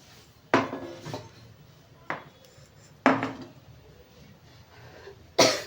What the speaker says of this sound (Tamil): இப்போ வந்து இவங்களை நம்ம பாத்திரத்தில் மாற்றோம்.